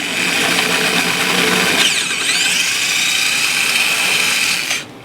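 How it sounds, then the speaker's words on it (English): A power drill whirs loudly and steadily, its pitch shifting as the bit bores a hole through a Washburn acoustic guitar headstock, then winds down abruptly at the end. "just let the drill bit do the work"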